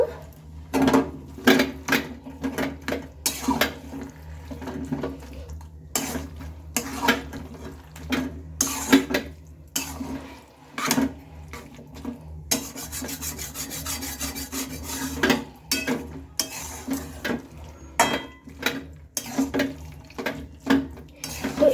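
Cabbage being stirred and mixed with spices in a pan while cooking with mung dal, giving repeated scraping, rubbing strokes of a spatula against the pan in an irregular rhythm, close and moderately loud, with no talking.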